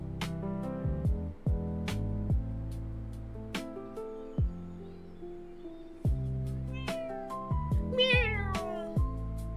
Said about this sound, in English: Look at the kitty cat.